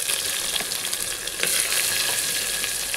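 Chopped onions hissing and sizzling in hot oil in a frying pan with whole garam masala, bay leaf, dried red chili and cumin, a steady loud crackle with some stirring.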